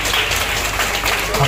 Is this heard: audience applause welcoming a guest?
yes